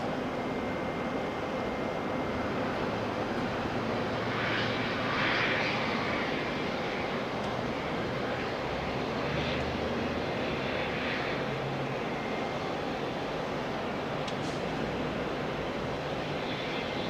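Jetstar flight 246 airliner at Auckland Airport, a steady broadband engine roar holding at moderate level throughout with faint higher whines drifting in and out, heard from a distance with no talk.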